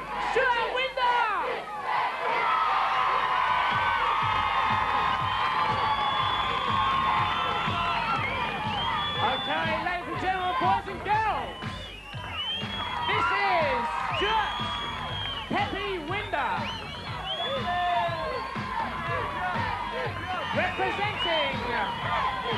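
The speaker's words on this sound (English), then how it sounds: "Let's give a nice big cheer." A large crowd cheers and whoops at a UK BMX freestyle competition, loud and continuous with shouts and excited chatter throughout, briefly dipping before surging again.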